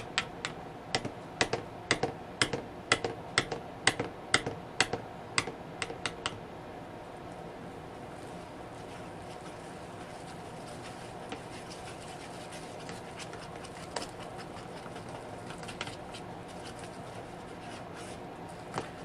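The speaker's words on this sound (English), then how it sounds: "This is probably not the best mixer to use with this." An electric hand mixer beats Yorkshire pudding batter in a bowl, giving a string of sharp rapid clicks and rattles for several seconds before settling into a low steady whir, with sporadic faint knocks and no talking.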